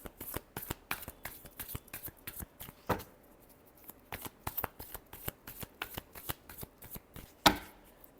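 Tarot cards are shuffled by hand close up, quick papery riffles and soft slaps repeating in a brisk, uneven rhythm, with a louder snap near the end and no talking.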